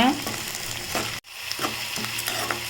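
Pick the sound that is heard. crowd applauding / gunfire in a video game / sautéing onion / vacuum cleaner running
sautéing onion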